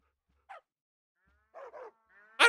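Dogs bark in the Minecraft video game: short yapping barks come as one early single, then a quick pair, then a louder final bark, all separated by silence.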